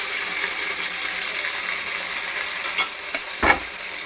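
Ground paste is stirred into a fish curry in a pan, with a steady soft sizzle and wet frying hiss under a few sharper scraping and clattering stirs near the end, close by.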